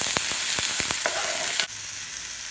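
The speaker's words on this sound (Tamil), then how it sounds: "வெங்காயத்தை லேசாக வதக்கினதுக்கப்புறம் அது கூட இஞ்சி, பச்சை மிளகாய், கருவேப்பிலை நம்ம சேர்த்து வதக்கி விட்டுக்கலாம்" Onion, ginger, green chili and curry leaves sautéing in a pan for tomato rice, with a bright continuous sizzle and several quick stirring scrapes before the sizzle drops a little and settles.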